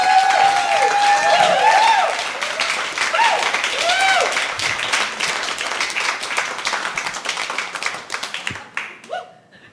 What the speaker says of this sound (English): I want you guys to give him a big round of applause